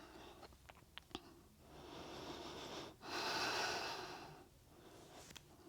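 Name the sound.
rhythmic breathing during yoga exercise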